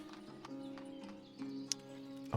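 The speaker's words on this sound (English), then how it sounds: "Here comes the horsey." A horse clip-clops through a village in the city-building game Ostriv. Faint, steady hoof taps run under a soft sustained ambient tone, with a louder knock at the end.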